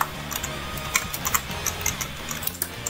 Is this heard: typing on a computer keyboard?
yes